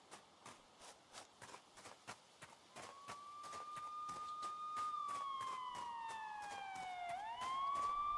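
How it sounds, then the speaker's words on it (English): In an indie horror game, a siren wail rises and slides in a long tonal sweep, then drops and climbs again, over a steady rhythm of running footsteps. "Let me guess, that's Siren Head."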